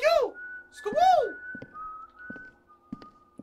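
Whistling in short, rising and falling swoops, two loud upward-sweeping whistles close by, followed by softer tones and scattered clicks.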